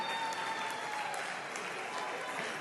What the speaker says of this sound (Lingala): Est-ce qu'on peut applaudir pour aider l'ambassadrice Rosny à se rasseoir, s'il vous plaît?